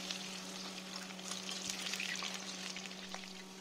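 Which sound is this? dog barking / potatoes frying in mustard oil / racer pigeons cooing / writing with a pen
potatoes frying in mustard oil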